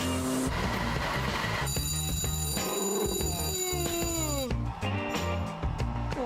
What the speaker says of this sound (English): turn on the rookie alarm